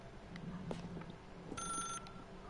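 A telephone rings inside The Stanley Parable video game, a bright electronic trill of stacked tones bursting in for about half a second amid quiet room ambience.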